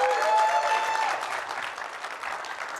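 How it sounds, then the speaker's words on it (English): A seminar audience gives a dense, sustained round of applause for speakers who shared their personal stories. The even wash of clapping is fairly loud and slowly eases off. "can we get a round of applause for the courage they showed in sharing their stories?"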